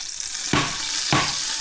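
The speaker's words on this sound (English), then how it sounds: "Once that's starting to getting into really bubbling like this, you hear that crackling" Butter bubbles in a frying pan before scrambled eggs are added, giving a soft steady sizzle broken by two brief louder bursts of crackling about half a second apart.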